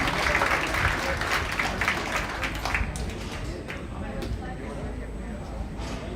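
At a junior livestock show after a market hog class, the audience claps, a busy wash of applause that starts strong and thins out, with a voice over it.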